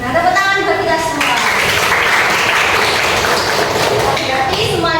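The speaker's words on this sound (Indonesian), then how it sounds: "Nah tepuk tangan buat kita semua" Students in a vocational high school classroom break into loud, dense applause that swells and holds for a few seconds, with a teacher's voice heard just before and after.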